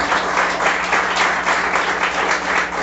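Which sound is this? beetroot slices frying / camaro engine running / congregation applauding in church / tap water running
congregation applauding in church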